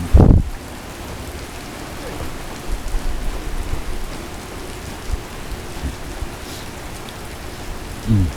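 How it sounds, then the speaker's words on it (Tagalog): Heavy rain pours steadily during a morning downpour in the Philippines, with a constant wash of noise and a few louder bumps near the start and end. "Lakas ang ulan dito sa aming lugar."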